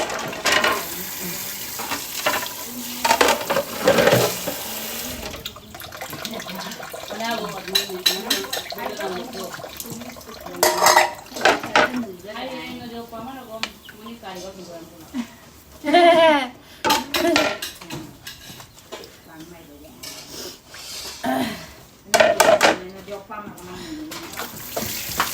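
Dishes and utensils are washed under a running tap, with water splashing and clinking plates and cutlery in irregular bursts, close and fairly loud, while a person talks at times over the washing.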